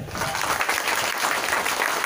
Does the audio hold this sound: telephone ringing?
no